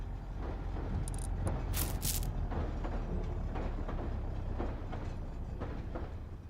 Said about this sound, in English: Someone on a train?